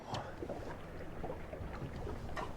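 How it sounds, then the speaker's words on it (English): Steady gusty wind buffeting the microphone on a rainy day by the water while striper fishing, a constant low rumble with faint flutters and no talking. "It's really windy"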